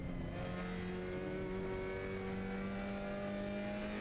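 Mazda MX-5 Cup race car engine held at full throttle on track, a steady rising drone heard from inside the car, loud and continuous with no talking.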